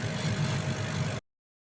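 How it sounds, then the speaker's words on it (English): A laser cutter hums and whirs steadily while it cuts out a bookmark, a continuous close mechanical drone that stops abruptly partway through. "and it's cutting. Laser cutting my other one."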